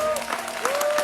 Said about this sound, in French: Donnons une acclamation au Saint-Esprit.